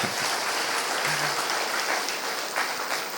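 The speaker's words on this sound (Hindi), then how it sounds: "इसके लिए एक बार अपने लिए जोरदार ताली बजा लें।" An audience at a yoga retreat's opening session breaks into loud, sustained applause, dense even clapping from many hands filling the room throughout.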